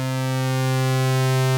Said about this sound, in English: Here's the pulse wave.